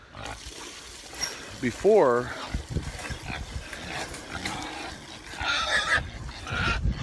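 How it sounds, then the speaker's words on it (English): Pigs grunting and squealing in short bursts for milk, one high wavering squeal standing out, amid wind noise and a person talking nearby. "pigs are wanting the milk."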